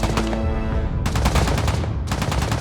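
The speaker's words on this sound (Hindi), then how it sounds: "उनसे कहो फायरिंग रोक दें।" Rapid gunfire in a Turkish drama dubbed in Urdu, loud dense bursts of automatic shots with brief breaks between volleys, close and continuous, with no voices.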